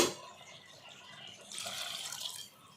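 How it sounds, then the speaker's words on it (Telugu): Water pours into a pan of curry fried in oil with garam masala and chili powder, a steady splashing rush that swells midway and then eases off, close and alone. "మొత్తం ఆయిల్ అంతా ఈ విధంగా వేయించుకొని ఇప్పుడు నీళ్ళు పోసుకోవాలి."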